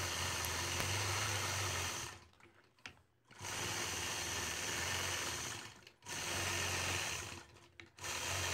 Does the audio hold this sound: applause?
no